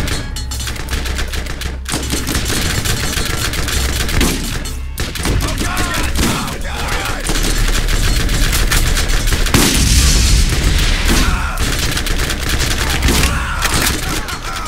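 Gunfire from a co-op session of the video game Borderlands comes as loud, dense, continuous bursts of rapid shots and booms, with only a few brief gaps in the firing.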